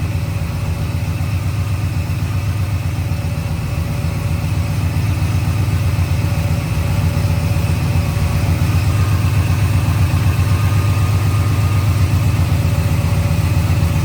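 A vehicle engine idles steadily while warming up to temperature, with exhaust run all the way to the back. The low, even rumble holds close and constant throughout, with no revving or speech.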